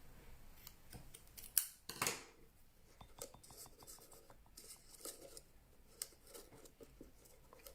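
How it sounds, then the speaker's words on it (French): Scissors cutting paper or card while a giant explosion box is being made, with a few quiet snips and rustles, one sharper cut standing out, in an otherwise quiet room. "Attends, je vais couper un peu là."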